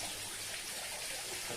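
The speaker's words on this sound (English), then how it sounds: "indoor private waterfall." Water from an indoor rock waterfall pours in a steady, even wash of splashing and trickling, a constant broadband rush with no pauses and no talk.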